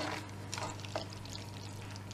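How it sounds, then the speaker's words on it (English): Drained pasta being stirred into mincemeat in a pan, a soft scraping and squelching with a faint sizzle underneath, close and steady. "and now I'm just giving it a stir"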